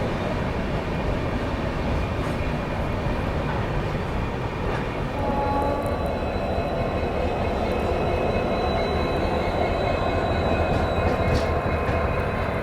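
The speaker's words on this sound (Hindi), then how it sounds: "ट्रेन जो है अपनी आसनसोल जंक्शन पहुंच रही है" West Bengal Sampark Kranti Express pulled by a WDG4 diesel locomotive rumbles steadily into Asansol Junction, a continuous loud low roar of rolling coaches with faint high squeals, no voices.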